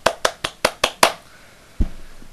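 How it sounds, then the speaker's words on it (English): Six slow, evenly spaced hand claps from a single person, close and crisp, sarcastically applauding Microsoft's E3 2012 conference, followed by a dull thud. "give yourself a round of applause,"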